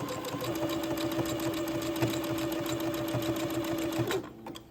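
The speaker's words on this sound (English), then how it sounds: "I will begin to zigzag all along the bottom, all along the edge of this entre-deux seam" A sewing machine runs a continuous zigzag stitch along the edge of an entre-deux seam on a dress, its rapid, even needle chatter and motor hum steady for about four seconds before stopping abruptly.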